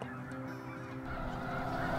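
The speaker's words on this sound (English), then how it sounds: "snow geese, and Aleutians and cacklers, it looks like, that have came out." A large mixed flock of snow geese, Aleutian geese and cackling geese honks continuously at a wildlife refuge, a dense overlapping chorus of calls that grows slightly louder and busier toward the end.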